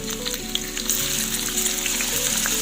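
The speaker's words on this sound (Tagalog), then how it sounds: "Nagpainit na ako dyan ng sunflower oil. Lagyan na natin yung ating bawang." Garlic sizzles in hot sunflower oil, a loud, dense crackle of frying right up close that runs steadily throughout with no talking.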